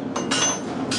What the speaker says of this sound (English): bar will be flipped over, it'll be stuck back in again, hammered in all the way through